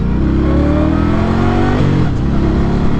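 A 2020 Indian Scout Bobber Twenty motorcycle engine revs loudly and steadily with rising harmonic pitch, dips briefly around two seconds, then climbs again, close and continuous with no talking.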